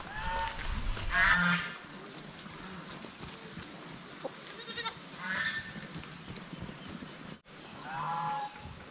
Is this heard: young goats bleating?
yes